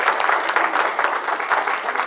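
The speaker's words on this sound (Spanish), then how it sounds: "Démosle un aplauso por aquí." Church congregation applauding an elderly couple at a service, a dense, steady patter of many hands clapping together, fairly close and continuous with no voices over it.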